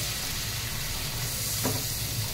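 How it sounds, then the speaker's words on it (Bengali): Paste for dim korma sizzles steadily in hot oil while being stirred, a continuous close frying hiss with a faint scrape near the end. "তেলের মধ্যে দিয়ে দিলাম। এটা একটু কষিয়ে নিতে হবে"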